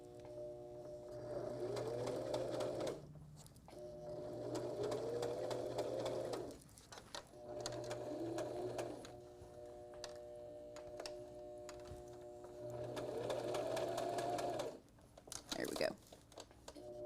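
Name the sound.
sewing machine sewing forward and back stitch on a bag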